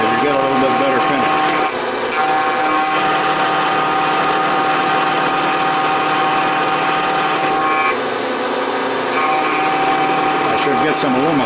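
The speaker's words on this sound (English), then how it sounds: "I like to take my last pass climb milling, because you get a little bit better finish." A milling machine climb-mills a dovetail on its last finishing pass, producing a continuous loud whining cut with steady tonal hum, briefly dropping off near the end before resuming.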